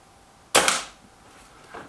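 A single sharp crack from a Kral NP-03 air rifle firing at a target card, close and loud with a quick decay and a faint follow-up tick about a second later.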